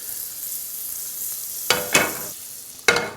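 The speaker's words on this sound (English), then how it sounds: "We're going to put about a tablespoon of butter in there." A tablespoon of butter melts in leftover pancetta grease in a hot pan, giving a soft steady sizzle that swells into a few louder bursts of frying hiss, heard close with no talking.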